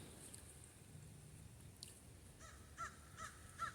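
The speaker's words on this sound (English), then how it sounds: "I don't mind the birds. Those are part of the surroundings." Crows caw outdoors in a quiet setting, several short harsh calls spaced apart toward the end, fairly faint and distant over a low ambient background.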